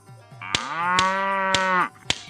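A cow lets out one long, loud moo at close range, steady and sustained before cutting off abruptly, with a few sharp clicks around it.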